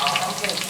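Onion, cardamom pods and cinnamon sticks sizzling in hot oil for a restaurant-style chicken curry, a steady close crackle and hiss with no voices.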